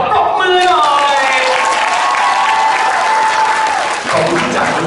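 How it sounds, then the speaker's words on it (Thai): Applause and some cheering from the audience fill a press event for a K-pop idol's first solo fan meeting in Bangkok, sustained and loud with a short dip near the end. "เอาปรบมือหน่อย"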